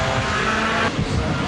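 A GT race car at speed on a street circuit in Wellington, engine howl loud and continuous, shifting tone partway through as it sweeps past.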